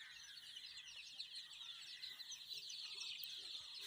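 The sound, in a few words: chicks clucking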